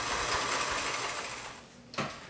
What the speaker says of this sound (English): We're going to stitch over the start and stop of this seam line.